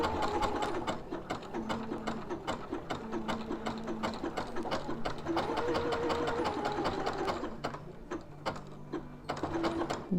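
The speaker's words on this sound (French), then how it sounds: "Donc je vais doucement pour réaliser cette couture, pour essayer d'être bien minutieuse." A sewing machine stitches a neckline band onto a sweatshirt at a slow, careful pace, its needle clattering in a rapid mechanical rhythm with slight speed changes, close and continuous throughout.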